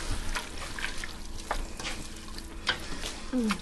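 Tuscan bean soup with petite diced tomatoes seasoned with garlic and olive oil being stirred in a pot, giving a soft, continuous wet scraping and gentle simmer hiss, close and moderately quiet, with a few brief clinks and no talk.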